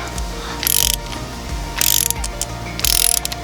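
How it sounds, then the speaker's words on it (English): A ratcheting wrench tightens glow plugs on an Alfa Romeo in three quick bursts of close, crisp clicking, separated by short pauses. "it will click if I go over 9 Newton meters"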